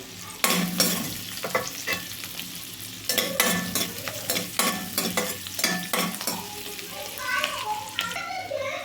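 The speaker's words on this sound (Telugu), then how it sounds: "ఎల్లిపాయ ముక్కలు, పచ్చిమిరపకాయ ముక్కలను అయితే వేసుకుంటున్నాను. బాగా వేగాలి." Chopped garlic and green chillies fry on high flame for egg fried rice, a close sizzle broken by repeated clattering stirs and scrapes in the pan.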